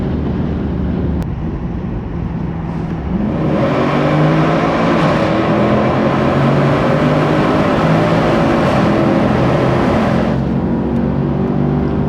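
A Mercedes-AMG C63 engine builds steadily under hard acceleration, loud and continuous from inside the cabin, with rising engine tones and a constant rush of road and wind noise.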